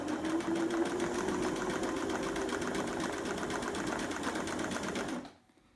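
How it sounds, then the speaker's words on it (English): A reconditioned vintage Singer Stylist 513 sewing machine runs a wide zigzag stitch at medium stitch length, a steady fast mechanical whirr and chatter heard close and alone for about five seconds before stopping abruptly. "And now I will show you the zigzag stitch that this machine makes."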